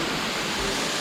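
A Caucasus mountain waterfall pours in a steady, dense rush of white noise, close and continuous for a second, with no voices.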